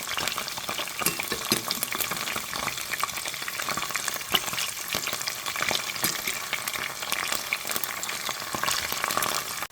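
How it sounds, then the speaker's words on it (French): Beef sizzles and crackles steadily in hot oil in a pot, a dense, continuous frying hiss with sharp pops close by. "Dans une casserole avec de l'huile assez chaude, je vais renverser là ma viande à l'intérieur."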